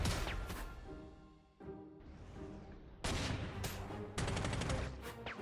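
Counter-battery artillery in Panzer Corps 2 fires a series of sharp booming volleys. Bursts of shots crack out in quick clusters with short lulls between them, fairly close and punchy.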